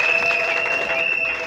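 A short burst of applause from a crowd at a union general assembly in Gabon, clapping steadily at moderate loudness for a moment.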